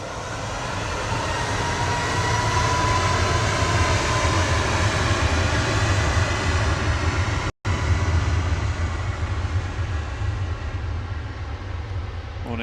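A TUI Boeing 737 MAX 8 departs Manchester Airport with a loud, steady jet roar and deep rumble that holds for the whole stretch, broken only by one very brief dropout.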